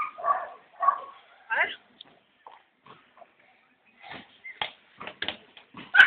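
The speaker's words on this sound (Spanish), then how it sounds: "Mira el perro." A dog barks and yips in short bursts during outdoor play with a ball, fairly close, interleaved with people talking in Spanish.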